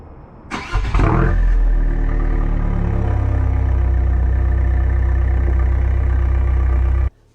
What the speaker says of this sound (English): let's hear the startup noise